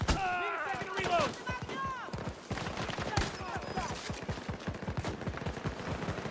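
Rapid bursts of automatic gunfire and scattered single shots from the video game Battlefield 2042, loud and close, firing almost continuously with brief pauses.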